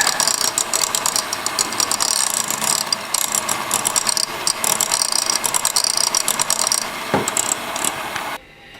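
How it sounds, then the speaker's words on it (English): An electric mixer whips mascarpone and sugar into tiramisu cream, a continuous close, loud rattling mechanical whir that runs steadily for about eight seconds before cutting off. "So I'm just going to mix this up."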